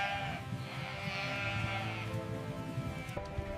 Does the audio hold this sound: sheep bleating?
yes